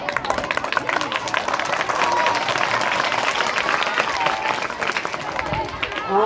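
An audience claps steadily throughout at a patriotic gathering held by staff members, a dense, loud wash of hand claps with crowd murmur mixed in.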